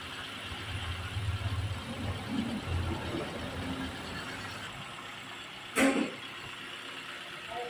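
An idling motorcycle engine runs steadily to purge trapped air after a radiator coolant refill and cylinder gasket repair, a low continuous hum with a brief sharp noise near the end.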